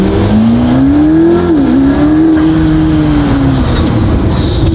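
A McLaren P1 hypercar in white carbon revs its engine, a loud, close, sustained roar whose pitch climbs, dips briefly and then holds high for several seconds.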